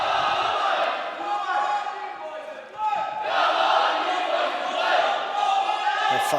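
A Scottish crowd at a school games judo competition cheers and roars continuously, a loud sustained wash of voices with whoops and shouts swelling through the whole stretch, with brief dips before rising again.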